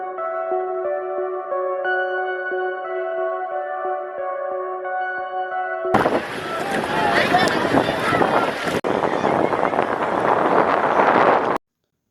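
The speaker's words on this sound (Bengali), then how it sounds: "শুনছেন নি বাতাসের সাউন্ড? খুব বেশি সাউন্ড, খুব বেশি বাতাস দেয়।" Strong wind sweeps near the hills at Bholaganj Sada Pathor in Sylhet on a rainy day. Steady tones give way midway to a loud, roaring rush of gusts battering the microphone.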